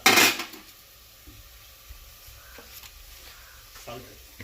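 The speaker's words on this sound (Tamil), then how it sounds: "தக்காளி போட்டு நல்லா வணக்கலாம்" Tomatoes sauté in a pan for a Tamil-style tomato rice, opening with a loud clatter of spoon against pan, then a faint sizzle with soft scraping stirs underneath a low-key voice.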